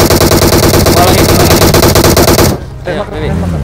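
Rapid automatic gunfire from the mobile game PUBG Mobile, a loud, dense burst of repeated shots that cuts off sharply, followed by fainter shots and game sounds with faint talk.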